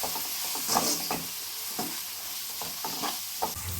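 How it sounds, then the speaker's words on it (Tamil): Spices and oil are stirred in a hot pan while making a potato fry: a steady sizzle under repeated scraping strokes of a spoon against the pan, close and moderately loud, with no talk. "இப்போ இதெல்லாம் நல்லா மிக்ஸ் பண்ணலாங்க."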